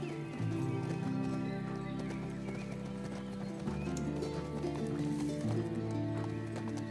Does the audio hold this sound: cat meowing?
no